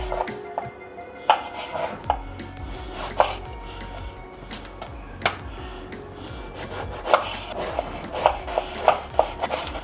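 A knife slices food very thinly on a board with quick, uneven taps and scrapes. Close, sharp cuts come in irregular bursts over a soft rubbing background, with no voices.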